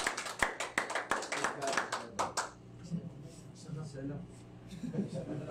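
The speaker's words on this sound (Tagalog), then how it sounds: "Diyan palakpak mo nga sa Panginoon." A church congregation at a praise and worship rehearsal claps hands in praise, a burst of quick, irregular claps that fades after about two seconds, followed by quieter voices and room sounds.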